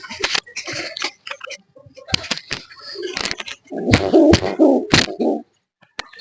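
A pigeon guarding its nest makes low, throaty defensive coos and puffing grunts in short bursts, close to the microphone, with brief clicks between calls and quiet gaps.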